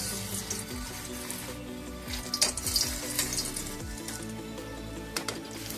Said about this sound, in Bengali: এবার আমি কোপ্তাগুলোকে ভাজবো